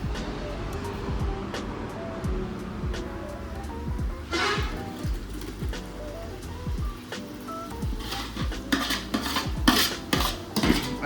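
Wet marinade going into biryani masala in a large pot while cooking a bulk order of veg biryani: repeated scraping and clanking of a metal utensil against the pot, fairly loud and busy, with no voices.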